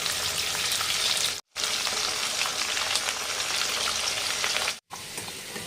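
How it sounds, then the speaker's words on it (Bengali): Potatoes fry in hot oil in a kadai with salt and turmeric, a dense, steady sizzle close by with two brief breaks. "এবার নুন হলুদ দিয়ে একটু আলুটাকে ভেজে নেবো"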